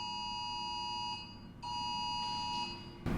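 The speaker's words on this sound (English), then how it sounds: "Thought that was a fire alarm for a second." A quiet, steady electronic alarm tone sounds indoors like a fire alarm, a faint continuous beep that briefly dips before resuming, with a clatter at the end.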